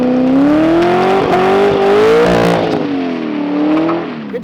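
Corvette C6 Z06 V8 with an aftermarket MagnaFlow exhaust, running loud and steady close by with the engine note rising and easing slightly through a sustained rev.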